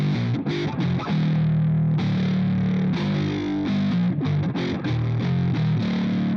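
An electric guitar run through a BIAS FX 2 preset gives a heavily distorted, low, bass-like riff of choppy repeated notes, steady and loud with no voices.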